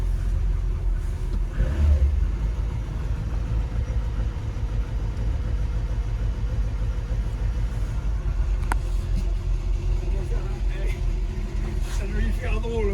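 A 1978 Renault 18 engine, an old car with stale fuel in the system, runs with a steady low rumble and rises in revs, heard close up with people talking over it.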